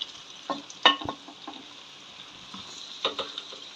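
Onions and green chilies fry in a pan for kushka, a soft sizzle broken by several quick scrapes and taps of a spatula, close and fairly quiet, with no talking.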